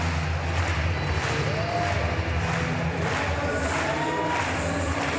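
A large arena crowd at the Paris Paralympic powerlifting competition cheers and roars continuously, loud and sustained, with shouts rising and falling throughout.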